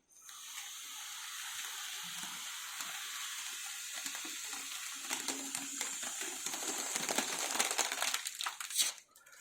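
Foil party balloon crinkling and rustling as air is pushed back in through its valve, a continuous close crackle that grows louder and busier toward the end before stopping abruptly.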